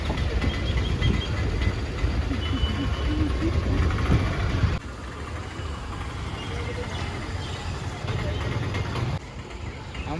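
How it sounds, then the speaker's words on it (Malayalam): Low rumbling of a train idling at Olavakkode railway station in Palakkad, Kerala, steady and moderately loud, with background crowd noise and people talking. "ഞങ്ങൾ റെയിൽവേ സ്റ്റേഷനിലാണ് ഇപ്പോൾ ഉള്ളത്"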